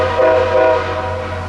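WM F7 diesel locomotives on the Tygart Flyer sound a loud, sustained horn while reversing south behind the West Virginia Railroad Museum, with a steady engine rumble beneath.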